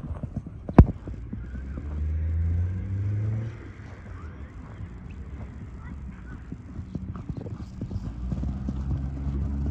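A young black stallion of good bloodline from Jalal-Abad clip-clops along as it is ridden, hoofbeats steady and close, with geese or fowl honking nearby and a short sharp knock near the start.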